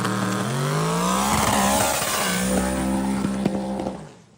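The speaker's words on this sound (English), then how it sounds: "Why don't you do burnouts like that?" A stock car does a burnout, its engine revving hard with rising and falling pitch and tire noise, loud and close before fading out at the end.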